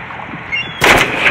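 A single loud, close sniper rifle shot rings out in Roblox Rivals, sharp and sudden after a quiet stretch, with a short ringing tail.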